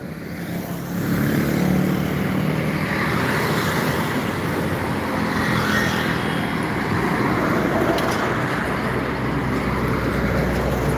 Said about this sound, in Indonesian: Truk-truk banyak juga, Bang.